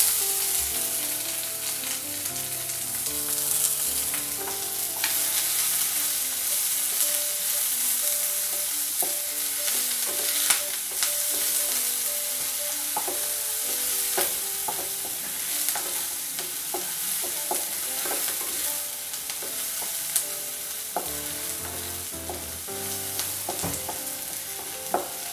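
Sliced onion sizzles in hot oil with curry leaves in a pan for rava upma, a constant close crackling fry broken by repeated scraping and clinking of a spoon stirring against the pan, with no talking.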